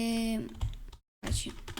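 Keystrokes on a computer keyboard clatter in short bursts, near and moderately loud, broken by a brief silent gap, with a voice speaking over parts of the typing.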